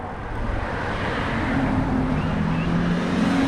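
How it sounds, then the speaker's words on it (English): A car passes close by near the end of an airport runway, its engine and tire noise steady and loud with a slowly rising tone throughout. "Oh, car."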